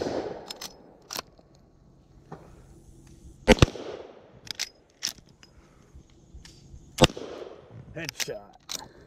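Sharp gunshots from an R90 Ranch Hand firearm on an outdoor range, a handful of loud separate cracks spaced irregularly, with people talking between them.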